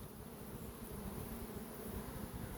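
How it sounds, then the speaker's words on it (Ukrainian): A steady, close buzzing of a honeybee returning to its hive, droning continuously at low volume, with no other sounds. "Бджола повертається жовта."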